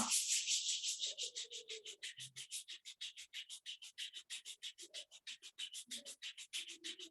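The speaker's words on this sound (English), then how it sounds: "Rub your both palms." Palms rubbed briskly together in a steady run of about thirty quick, close, dry strokes, each a soft hiss, with a few faint low voice murmurs underneath during a guided yoga session.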